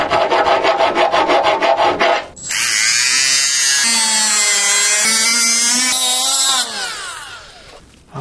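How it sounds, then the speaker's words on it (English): Rasping strokes of a hand file on metal of a Toyota mini truck bed, a rapid run of short scrapes followed by a long, loud sustained grinding rasp that tapers off. "a little massaging in the corners with a file. Yeah, a little filing."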